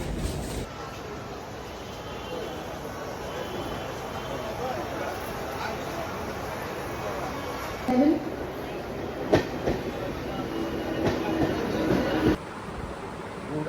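Tutari Express train running near Thane station after a long delay, a steady broad rumble of wheels and carriage noise with occasional clacks and a brief squeal, voices murmuring underneath throughout.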